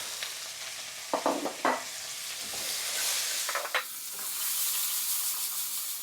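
Diced onions frying in a pan with bay leaves, cooked in the same pan used to brown oxtail for an Indian-spiced stew, giving a soft continuous sizzle broken by a few spatula scrapes.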